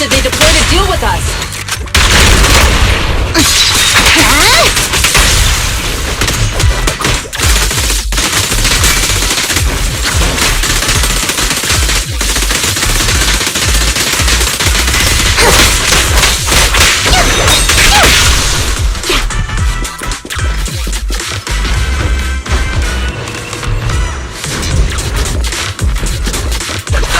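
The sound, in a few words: gunfire during an ambush in the video game Zenless Zone Zero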